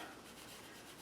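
Pink chalk pastel rubbed onto paper with a piece of felt gives a soft, steady close-up scraping hiss, quiet and continuous, with no voices.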